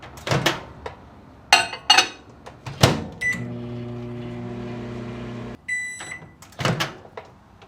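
Microwave oven running while melting eight tablespoons of butter, with door clicks and clatter before a steady hum starts, then stops with a sharp beep series and more handling noises; nearby and fairly loud.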